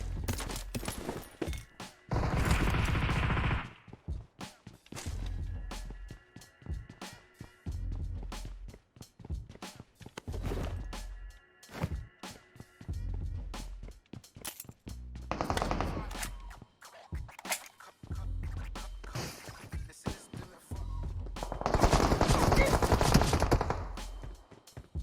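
Repeated bursts of automatic gunfire from an online shooter video game, coming in loud clusters and sharp single shots with short pauses between them, over steady game background noise.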